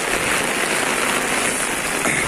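Heavy rain falls in Hyderabad, a close, constant downpour hissing and spattering on surfaces without pause.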